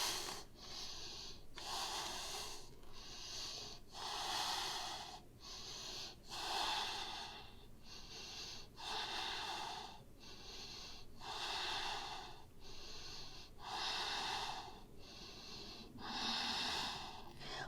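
Steady breathing during a yoga pose, rhythmic inhales and exhales roughly every second or so through the nose, faint and close with a slightly snorting, airy texture and no talk.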